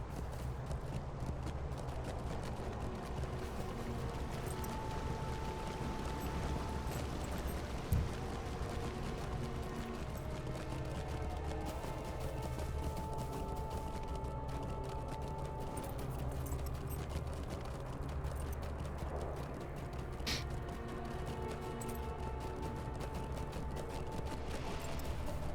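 Horse hooves clip-clopping in the Lord of the Rings Online game, a steady quiet rhythm of hoofbeats continuing under faint background game sounds and a low hum.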